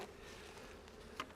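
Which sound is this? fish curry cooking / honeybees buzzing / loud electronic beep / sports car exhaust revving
honeybees buzzing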